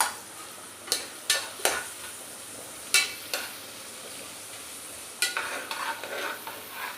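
Eggs fry in a pan for egg biryani while a utensil stirs and scrapes against the pan in several short, sharp bursts over a soft, steady sizzle, with no voices.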